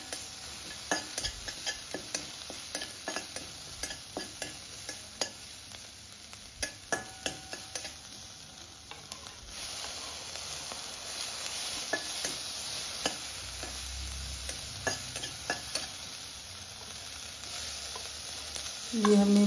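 Finely chopped capsicum stir-frying in a pan gives a soft, steady sizzle, punctuated by a rapid series of light spatula taps and scrapes, then quieter stirring with a louder clatter at the very end.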